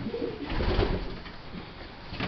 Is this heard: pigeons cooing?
yes